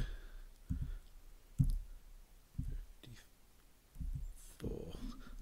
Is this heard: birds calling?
no